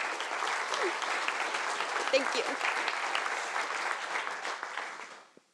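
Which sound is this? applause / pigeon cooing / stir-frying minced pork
applause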